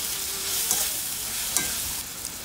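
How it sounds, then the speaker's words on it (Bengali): Shrimp frying with ridge gourd and garlic paste in a pan, a continuous close sizzle with a couple of brief stirring scrapes, no talking. "চিংড়ি মাছ দিয়ে আমি এটা আরও কিছুক্ষণ ভেজে নিব"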